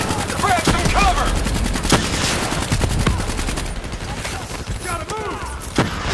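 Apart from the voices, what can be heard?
enemy turret machine gun fire in the video game Call of Duty Black Ops 3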